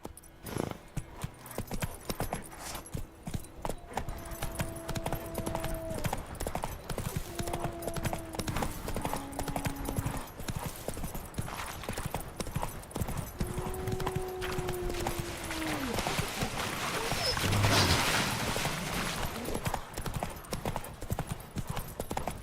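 Rapid clip-clop of a horse galloping in the video game The Witcher 3: Wild Hunt runs continuously, with brief neighing calls layered over it and a busy game-like background.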